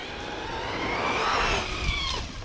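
A Traxxas Hoss RC truck driving and doing tricks in an open outdoor area, its motor whining steadily with tires scuffing and sliding, building slightly in loudness toward the middle and tailing off.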